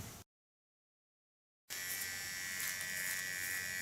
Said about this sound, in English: Now the contour I will clean up with a small clipper of Kiona.